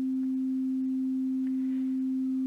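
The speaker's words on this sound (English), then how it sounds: "Let's hear, for example, a sinusoidal wave," A pure sine wave tone at middle C holds steady and unbroken for the whole span, clean and moderately loud with nothing else around it.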